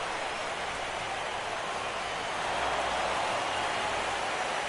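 Steady rain falling over a baseball stadium during a wet MLB 17 The Show postseason game between the Mets and Nationals, a constant even hiss with no voices.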